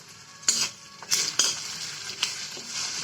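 Chicken frying in oil as it is stirred: a soft sizzle under several distinct scraping strokes of a utensil against the pan, close and without voices.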